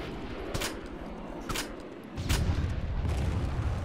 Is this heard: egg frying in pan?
no